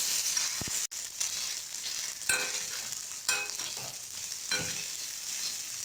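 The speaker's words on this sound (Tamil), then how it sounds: "இப்போ அந்த பால்ஸை வந்து உள்ளே சேர்த்துக்கலாம்" Kolukattai balls dropped into hot oil and stirred, giving a steady close sizzle with a few scraping stir strokes and light knocks, no voices.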